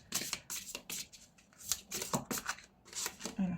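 Oracle cards are shuffled and drawn in quick bursts of crisp riffling and snapping card slides, close and fairly loud, repeating in an uneven rhythm with faint voice traces.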